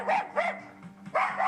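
Small dog barking indoors, three quick sharp yaps in a row with short pauses between, close and loud, no talking over it.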